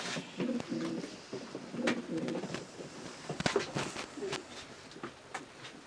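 Breeding-loft pigeons of Meulemans, De Klak and Janssen lines give repeated low rolling coos, several overlapping phrases with occasional sharp taps and wing shuffles, soft and nearby.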